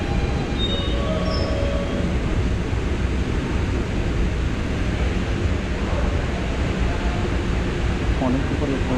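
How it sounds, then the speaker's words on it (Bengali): A New York subway train running underground beneath a river gives a loud, continuous rumbling roar with faint squeals of wheels on rail that persist the whole time. "এটা নদীর নিচ দিয়ে ট্রেনটা চলে আসে।"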